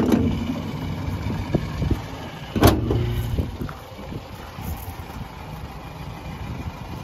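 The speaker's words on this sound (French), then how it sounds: "Le moteur tourne très bien." A 1959 MGA classic car's engine idles steadily at close range, a low continuous rumble with a sharp click partway through.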